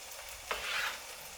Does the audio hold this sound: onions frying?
yes